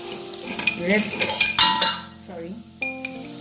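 A metal spoon scrapes and clinks against a pan while potatoes fry with masala for Bengali aloor dum, with sharp ringing knocks and stirring over a quiet sizzle, close and loud.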